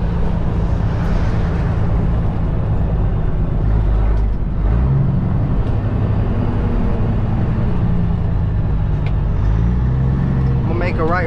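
Kenworth heavy-haul truck engine with a 10-speed transmission pulling a lowboy trailer loaded with a dozer, a deep steady diesel rumble heard from the cab with pitch shifts between gears, under intermittent talk.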